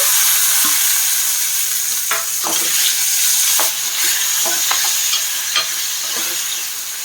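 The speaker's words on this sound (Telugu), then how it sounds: "ఇప్పుడు ఇందులో ఒక రెండు మామిడి పండ్లు సన్నగా తరుక్కున్నవి వేసుకుంటున్నా అండి" Thinly sliced mangoes fry in a pan for mango pulusu, and the sizzle stays loud and continuous. A spoon stirs them in repeated scraping strokes throughout, with no talking.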